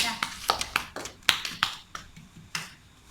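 A small class applauding a student, with a handful of scattered, uneven claps sounding close by in a room.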